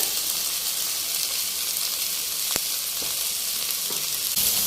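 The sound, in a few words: soya chunks frying in a pan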